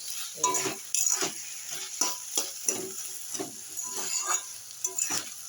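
Cabbage fries in ghee in a pan, a constant sizzle under repeated close scrapes and clinks of a spoon stirring at a steady, uneven rhythm.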